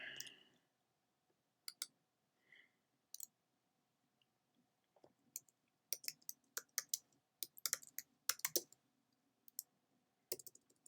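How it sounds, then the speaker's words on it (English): Sparse bursts of key clicks from typing on a computer keyboard during a graded orchestra class session on intervals, with short quiet gaps between clusters of taps, fairly close and alone. "I can type."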